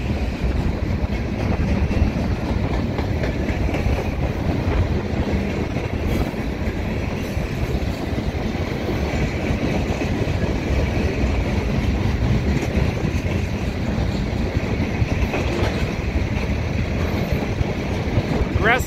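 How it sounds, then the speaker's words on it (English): Rear cars of a CSX Q360 freight train, a string of tanker cars, roll steadily past at close range west of Oxford, a continuous loud rumble and clatter of wheels on rail with wind buffeting the microphone throughout. "here comes the end of the train"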